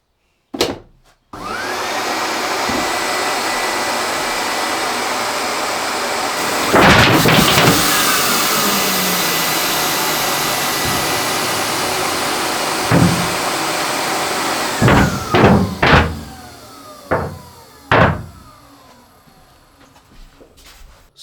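A workshop dust collector with two motors roars steadily and loudly for about fourteen seconds, then a series of heavy, irregular thumps and bangs punctuate the rushing air noise as it winds on.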